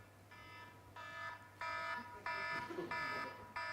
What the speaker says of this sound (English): That was the first alarm that I had on my iPhone